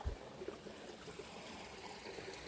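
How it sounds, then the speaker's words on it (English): A small stream on the Appalachian Trail trickles and gurgles softly, a steady faint wash of running water with tiny bubbling ticks, heard alone at low level. "Nice little stream."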